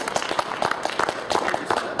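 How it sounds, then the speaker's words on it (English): Audience in a Dallas hotel function room giving a short round of applause, a brief burst of moderately close, uneven clapping from a small crowd. "let's give him a round of applause."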